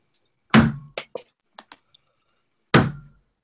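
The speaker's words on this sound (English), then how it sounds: "That's really stupid of me to hit the table." A hand slams down on a table with a loud, close thud, followed by a few small knocks and then a second heavy thump, with near silence between the impacts.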